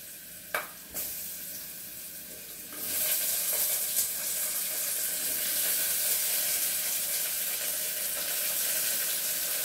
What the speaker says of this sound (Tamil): போட்டு ஒரு நிமிஷம் 2 நிமிஷம் நெய்யிலேயே வதங்கினா போதும்